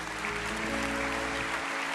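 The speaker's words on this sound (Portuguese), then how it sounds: "Pode aplaudir ao Senhor por essas vidas." Worship audience at a church service clapping in a dense, continuous round of applause under a held musical tone, fairly faint.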